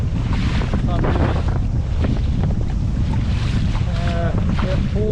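Wind and choppy water around an Old Town Sportsman 132PDL pedal fishing kayak heading into wind and current, steady loud rushing with heavy microphone buffeting and sloshing throughout.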